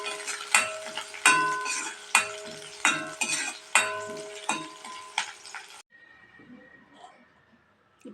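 Curry leaves are stirred into a tamarind curry with lady's finger in a pan, a spoon scraping and clanking in a steady rhythm of about eight strokes over a soft sizzle, close by, before it quiets to a low simmer.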